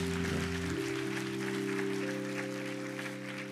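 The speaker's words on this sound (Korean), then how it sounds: "예, 박수하겠습니다." A congregation applauding during a Friday evening Holy Spirit service at a Korean church: a soft, steady wash of clapping from many hands over sustained keyboard chords that shift once early on.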